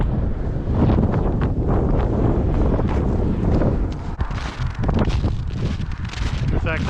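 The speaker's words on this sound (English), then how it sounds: "Yeah, it's really windy right now." A strong windstorm in Alaska roars as loud, continuous wind buffeting directly against the microphone, with gusts rising and easing while a voice speaks over it.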